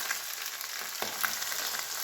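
Poppy seed fritters (posto bora) frying in hot oil: a faint, steady sizzle with soft crackles and one brief knock, no voices.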